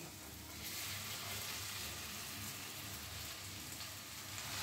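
A chicken and potato mixture hits hot, cooked-down spiced masala for chicken cutlets, giving a soft, steady sizzle and crackle of frying that swells slightly after the first half second and continues quietly.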